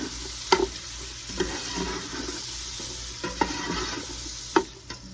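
Sweet onions frying in a pan until soft and translucent give a steady sizzle, broken by a few sharp scraping stirs, with no talking.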